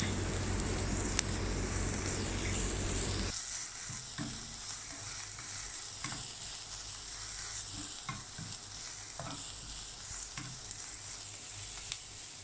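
Chopped spinach is stirred in a hot pan, a steady sizzle that opens loud and then settles lower, broken by intermittent scraping clicks of a spoon against the metal.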